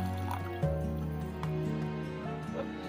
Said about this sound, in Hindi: 2 ग्लास मैंने इसमें पानी डाल दिए हैं